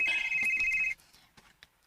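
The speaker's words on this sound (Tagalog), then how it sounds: "Si Kurt ang nanawag pa." A mobile phone rings with an incoming call, a bright, steady electronic ringtone for just under a second before it cuts off, followed by faint soft movement noises.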